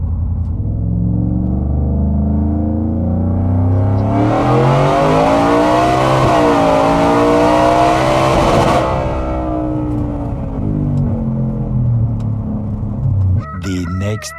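An 870 wheel-horsepower 4WD Ford F150 work truck revs hard and accelerates, its engine note climbing and shifting in a loud, close roar that then drops back to a rumbling idle, with no talk.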